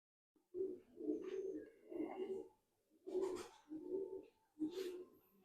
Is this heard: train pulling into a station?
no